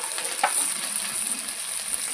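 Taro pieces frying with browned onions in a pan in a village kitchen, a steady bright sizzle throughout with a faint stirring scrape.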